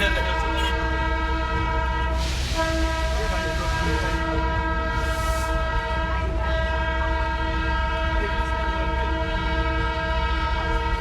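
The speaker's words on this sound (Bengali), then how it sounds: "ট্রেন তো প্রচুর হর্ন মারতে হচ্ছে কারণ গাড়ি যাচ্ছে রাস্তাতে" A Darjeeling toy train running along the roadside through a market area toward Sukna sounds its horn in long, loud sustained blasts over a constant rumble of the moving carriages.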